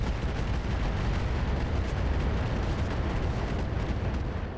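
Sustained heavy weapons fire from mechs in RogueTech, a dense continuous roar of booming shots and rumbling blasts with no pauses, loud and steady throughout.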